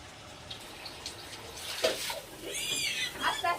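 Water is poured from a container over a person's body in the dark, splashing and trickling in uneven bursts, with people talking over it.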